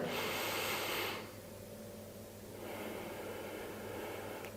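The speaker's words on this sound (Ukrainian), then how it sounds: "На чотири рахунки робимо вдих і на чотири видих" Person breathing during a flat-stomach workout exercise, a long airy hissing exhale that fades away, followed by a softer, steady breath. The breaths are heard alone, with no talking.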